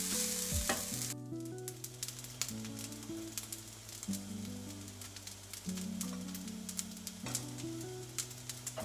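Leftovers sizzling steadily in a frying pan on the stove while being reheated, with occasional stirring scrapes and a constant crackling hiss, close and moderate in level.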